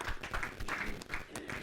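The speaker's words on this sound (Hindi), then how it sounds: "जोरदार तालियों के साथ उनका स्वागत" An audience claps to welcome a poet at a Hindi kavi sammelan, steady moderate applause from a small crowd, continuous and fairly close, with no talking over it.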